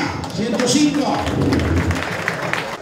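A crowd at a cattle auction claps for a couple of seconds, close and dense, while an auctioneer keeps talking over it.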